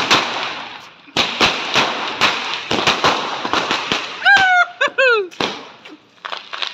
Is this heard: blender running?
no